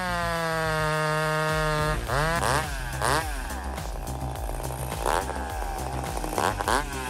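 A Stihl MS362 chainsaw cuts wood, its engine first holding a high steady whine, then bogging and revving repeatedly in loud, uneven bursts as the chain bites into the timber.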